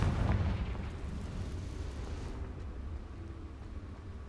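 The Confringo blasting spell from Hogwarts Legacy goes off as a loud, booming explosion at the start, followed by a rumbling, crackling tail that slowly fades over several seconds.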